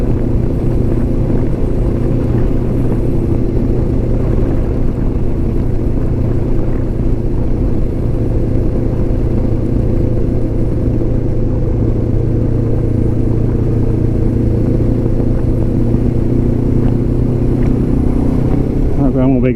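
A 2025 Lifan KPT 400 motorcycle cruises at highway speed past a swamp, its engine holding a steady drone with layered harmonics under continuous wind rush, loud and close for the whole stretch with no change in pace.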